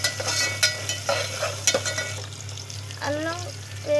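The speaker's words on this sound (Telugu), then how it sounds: "పచ్చిమిరపకాయలు వేగిన తర్వాత కొంచెం అల్లం వేసి కలుపుకోవాలి" Green chillies and ginger sizzle in hot oil in a village kitchen while a utensil scrapes and stirs them, the frying hiss steady under several sharp clatters of the spoon against the pan.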